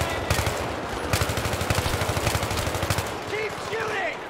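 Rapid bursts of automatic gunfire in the Battlefield 3 campaign crackle in a steady rhythm for about three seconds, loud and close, with battle noise continuing after the shots stop.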